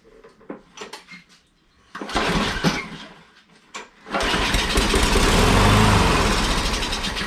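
A Briggs and Stratton lawn mower engine, fitted with an aftermarket carburetor and running smoky, sputters through a couple of faint tries, catches briefly, then roars up and runs loud and steady at close range with some metallic rattles.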